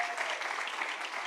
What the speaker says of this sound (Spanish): si va a aplaudir, apláudale a Jesús bien fuerte